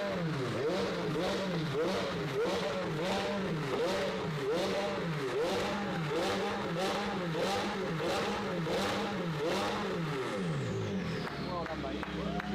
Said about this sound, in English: V8 twin turbo, and they always sound, you know, a little bit muted, but this one we uncorked quite a bit.